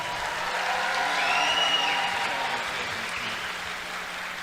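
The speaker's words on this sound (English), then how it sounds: "let's give both fighters a huge round of applause." Crowd applause at a professional boxing debut bout, a broad, steady wash of clapping from the arena audience that swells slightly midway and holds without a break.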